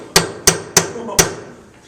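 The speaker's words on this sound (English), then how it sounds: "They ruin the ends of them because they're smashing them with the hammer." Four sharp hammer or mallet strikes land on a workpiece at a wood lathe, evenly spaced about a third of a second apart, each a close, loud crack that fades quickly.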